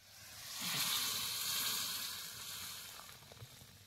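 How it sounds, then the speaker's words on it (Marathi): Boiling water is poured into a well in flour to make bhakri dough, a soft hissing, splashing stream that swells and fades over a few seconds. "आता ही उतवणी तव्यात आळ्यात ओतून घ्यायचं"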